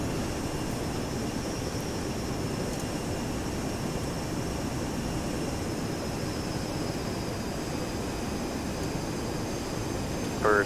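An aircraft approaching the runway at Van Nuys in Flight Simulator X makes a steady, even engine drone with a broad airy rush that holds at a constant level throughout, with no talk.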